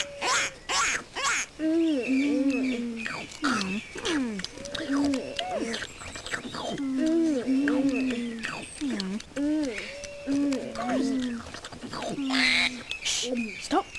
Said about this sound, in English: Shh, stop quacking.